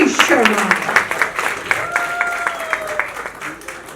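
Enthusiastic applause from an audience at a music launch event, dense rhythmic clapping close by, with a voice and a whistle-like tone rising briefly over it.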